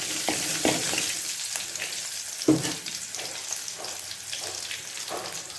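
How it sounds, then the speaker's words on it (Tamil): Mustard seeds, cumin, fennel, green chili and curry leaves sizzle and crackle in hot oil in a pan for a mushroom biryani, a steady frying hiss broken by several spoon stirs and one sharper clatter, close and fairly loud with no talk. "கடுகு, கொஞ்சமாக ஜீரகம், கொஞ்சமாக சோம்பு, பச்சை மிளகாயும் கருவேப்பிலை லைட்டாக ஒரு கிண்டிட்டு"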